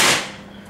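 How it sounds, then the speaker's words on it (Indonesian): A single sharp shot from a PCP Grand Kinto air rifle firing a Hercules pellet, loud right at the start and then decaying quickly into a fading tail, heard alone with no talking. "tembakan pertama"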